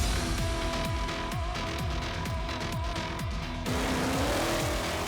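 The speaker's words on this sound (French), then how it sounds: "ces pilotes se préparent pour les finales nationales de dragster sur piste" Dragsters accelerate down a straight drag strip ahead of national finals, loud engines rising in rapid, repeated gear-change sweeps with tire squeal, close and continuous, ending in a shift to a steadier, higher whine.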